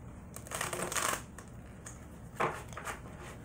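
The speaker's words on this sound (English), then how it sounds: "let me shuffle these first" Two short bursts of riffling angel oracle cards being shuffled, a quick papery flutter close up, separated by a brief pause.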